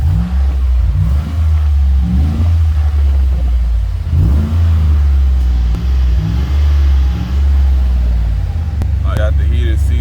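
A Chevy four-wheel-drive truck engine idles and revs steadily at close range, a continuous low rumble with a few throttle swells, while someone talks over it.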